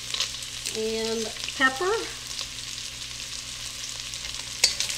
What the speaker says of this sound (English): I'm going to cook this for 1 additional minute, and that will help cook that garlic